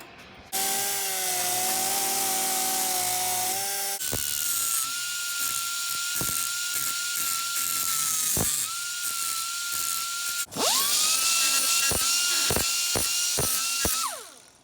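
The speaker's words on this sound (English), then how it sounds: "I'm gonna this go back and grind it" Power grinder working a metal cowl panel on a Winston Cup Buick Regal race car, a loud high whine that drops under load, pauses and restarts with a rising spin-up, close and alone.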